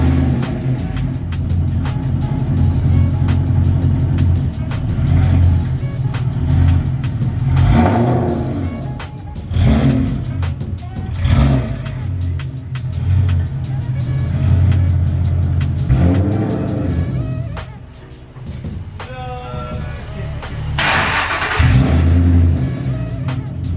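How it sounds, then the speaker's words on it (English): A ute's engine idles loudly close by, a steady deep rumble with repeated revs and surges that rise and fall throughout. "Now I can turn Max's ute off because it's so bloody loud."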